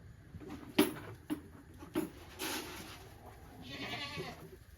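Baby goats bleat inside a farm stall: a few short, close bleats in quick succession, then a longer wavering cry, with rustling and shuffling between them.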